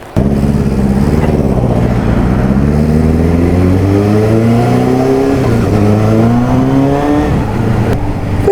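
A Kawasaki Z650 motorcycle, an older bike running on E10 fuel, roars loudly and close through its exhaust while riding, its engine note climbing steadily as it accelerates, then dipping and rising again near the end.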